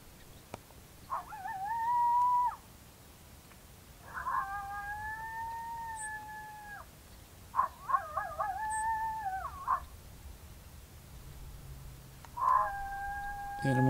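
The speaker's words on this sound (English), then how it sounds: "And now we'll go to Male Howl," An electronic predator call plays a male coyote howl at a low volume setting, giving four drawn-out wavering howls spaced a few seconds apart, each with rising and falling pitch, heard at moderate distance.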